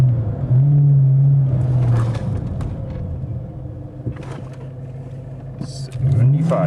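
A car engine hums steadily as it gets up to 40 for a braking test with Power Stop brakes, with rumbling road noise and a rising rev toward the end.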